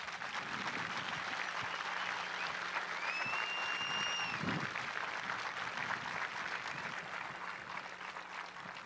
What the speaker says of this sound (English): Would you please join me in applauding these magnificent DIs?